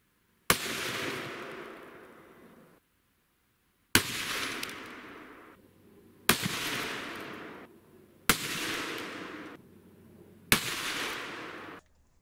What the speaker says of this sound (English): I shot a total of 5 shots into the gel.